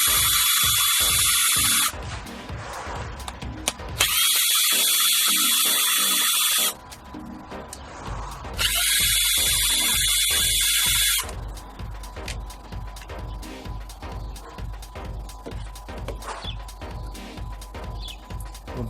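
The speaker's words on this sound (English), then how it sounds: "So you just use 10 10mm socket and undo all the screws." Ratchet wrench with a 10mm socket undoing valve cover screws on a BMW N42/N46 engine, with two bursts of rapid clicking ratcheting and a third after a pause, followed by lighter intermittent mechanical clicks and handling noise.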